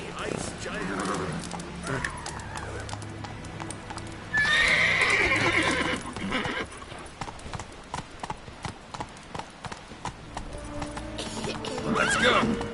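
Geralt's horse Roach in The Witcher 3, hooves clip-clopping in a run with a loud neigh partway through, mixed with game effects and spoken dialogue.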